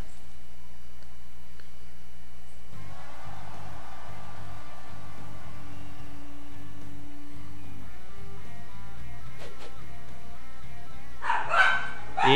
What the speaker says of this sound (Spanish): Y mis perros empezaron a ladrar como raro.